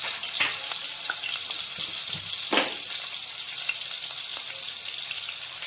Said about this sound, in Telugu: ఆయిల్ పోసుకుందాం ఉల్లిపాయ వేసుకుందాం కారం కూడా వేసుకుందాం